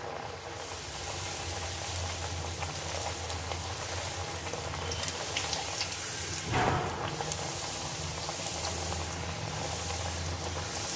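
Chana dal puri frying in hot oil, a dense continuous bubbling sizzle that holds steady throughout with one brief louder crackle midway.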